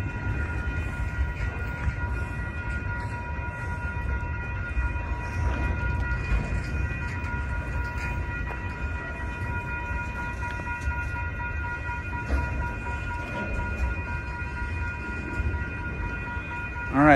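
A Union Pacific intermodal freight train rumbles steadily below in Rochelle, Illinois, a continuous low drone of rolling cars with faint steady tones and a brief horn-like swell at the end, with little talk.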